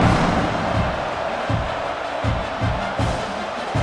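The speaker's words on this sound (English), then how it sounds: "this crowd is buzzing after that last score" Stadium crowd in the EA Sports College Football video game, buzzing after a score: a loud, steady broadband roar punctuated by regular low thumps.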